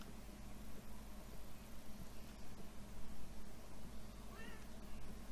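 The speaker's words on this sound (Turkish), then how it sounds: "Meow." A cat meows in the video game Beyond Eyes, a few short mews rising over a steady hiss and low engine-like hum in the background.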